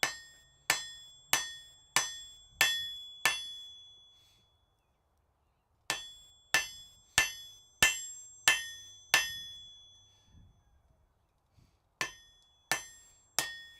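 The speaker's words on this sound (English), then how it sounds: "I think I want a heavier hammer" A blacksmith's hammer strikes hot metal in a smithy while forming shoulders on the stock: a run of about six sharp ringing blows, a pause, seven more, then three, each bright and close with short decays.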